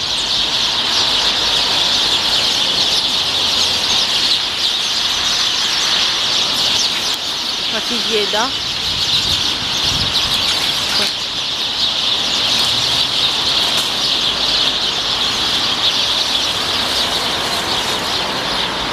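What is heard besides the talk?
large flock of birds calling and flapping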